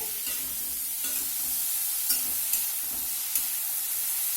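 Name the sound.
bitter gourd and pumpkin being stirred and fried in a pan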